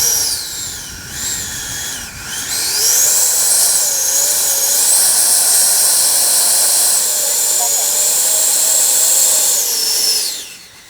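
A Freewing MiG-29 80mm RC jet, flown at night, comes in to land with a loud, close ducted-fan whine that rises, holds steady with shifting pitch for several seconds, then spools down at the end.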